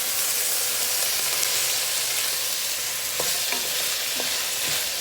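Food cooking in a pot is stirred with a steady scraping sound over a constant sizzling hiss, with a few sharper clicks of the utensil against the pot near the end.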